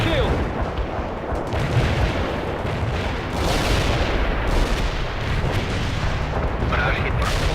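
An artillery barrage in the World in Conflict video game strikes as a dense, loud, continuous roar of overlapping booms and rumbling blasts, with game radio voices cutting in over the bombardment.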